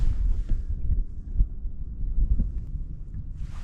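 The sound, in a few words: strong wind blowing outdoors while fishing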